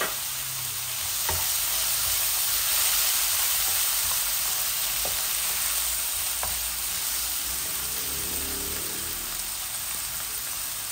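A medium-sized onion is added to a hot pan for a fish-head curry with potato and tomato, giving a steady, close, dense sizzle and crackle that holds evenly throughout, with no talking.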